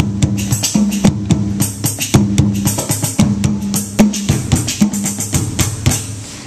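Roland SPD-30 Octapad electronic drums with a Roland TD-9 kit and electronic bass drum, played through a Roland KC-350 amplifier: a busy, steady groove of loud, punchy kicks, snares and cymbals, with no talking over it.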